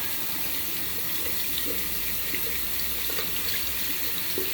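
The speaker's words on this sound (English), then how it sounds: "Rinse off the old brush." Tap water runs steadily into a sink while a shaving brush is rinsed under it, a close, even hiss of flowing water with faint splashes and no talking.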